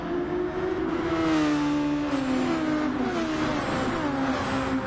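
Race cars in an ARC Super Formula race at Barcelona surge off the starting line, engines rising in pitch together in a loud, dense, sustained roar of accelerating motors close by.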